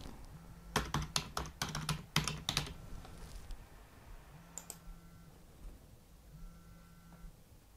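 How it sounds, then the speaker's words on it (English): A computer keyboard is typed on during Windows 10 first-time setup of a Beelink BT3 Pro mini PC, with a quick close burst of clacking keystrokes followed by a couple of isolated key presses and quiet pauses. "Now type your credentials."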